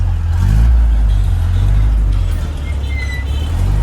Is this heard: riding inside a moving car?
yes